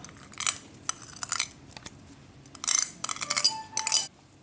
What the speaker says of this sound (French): Maintenant, je mélange le tout.